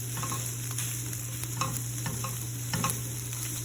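Eggs for wraps cooking in a pan, a soft steady sizzle with occasional light spatula scrapes over a constant electrical hum, no talk.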